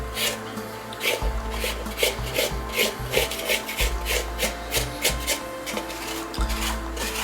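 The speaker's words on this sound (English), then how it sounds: "your hand kneading, you're going to basically drop it onto the table, even if it's still kind of shaggy" Hands knead low-hydration pizza dough on a table, rhythmic rubbing and thumping strokes repeating about twice a second, close and moderately loud with no talking.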